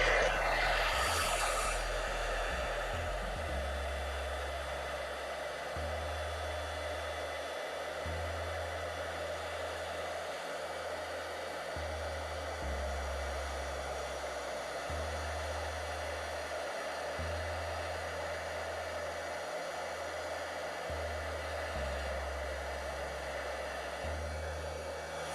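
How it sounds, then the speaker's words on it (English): A heat gun blows steadily on embossing powder during a craft kit demonstration, a close, continuous whooshing hum that dips and restarts several times as it is moved or switched. "I'm going to use the heat gun on this again."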